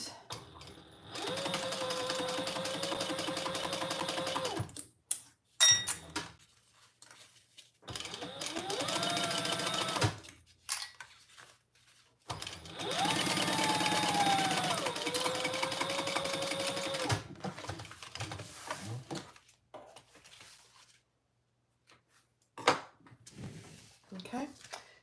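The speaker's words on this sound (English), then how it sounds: "All right, stitch at the seam allowance." A sewing machine stitches a seam in several long runs of steady, whirring motor buzz, close and fairly loud, separated by pauses with small clicks and handling noises.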